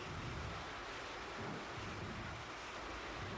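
Wind blowing outdoors in the stealth game Splinter Cell Pandora Tomorrow, a faint continuous rushing gust with low rumble, steady and unbroken with no voices.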